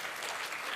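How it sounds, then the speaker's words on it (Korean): Audience applause at a PyCon Korea 2019 lightning talk session, a dense steady wash of many hands clapping with no speech over it. "다시 한번 발표자분께 큰 박수 부탁드립니다."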